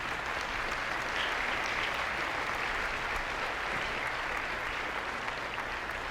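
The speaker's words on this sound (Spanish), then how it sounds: "¿No le das un aplauso al Señor por esto?" Congregation applauding in a church service, steady dense clapping that fills the whole stretch at an even, sustained level with no break.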